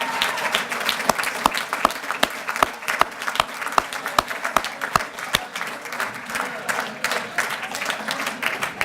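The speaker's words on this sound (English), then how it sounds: "Give them a big round of applause." Audience at a breed convention awards dinner applauds loudly, a dense sustained clapping from a large indoor crowd with some sharper close claps standing out, no talk.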